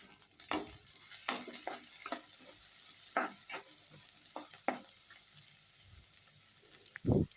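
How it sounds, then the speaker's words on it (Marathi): Onion sautéing in a pan for bun dosa, a steady close sizzle broken by irregular scraping stirs of a spatula, with a louder clatter near the end; no voices. "व छान असं परतून घ्यायचं।"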